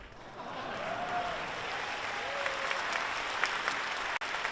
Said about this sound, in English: And a round of applause for our pre-game show superstars,